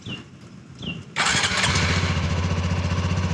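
A Honda CT125 or C125 motorcycle is started nearby: two short beeps and a brief starter whir, then the engine catches abruptly and settles into a loud, steady, fast idle.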